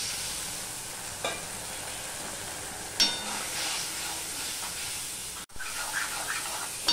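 Spice paste with cumin powder sizzles steadily in a hot pan for Bengali prawn curry after a splash of water goes in, a continuous close hiss with a few clinks and stirring scrapes.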